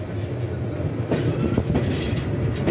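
The Tista Express rolls along the rails with a steady low rumble and rhythmic clatter of wheels, heard from inside the moving train, loud and continuous throughout.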